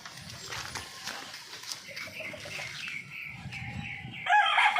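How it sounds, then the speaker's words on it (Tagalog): Scattered clucking from a group of chickens, with a sharp crow-like call breaking out loudly near the end. "Yan mga manok."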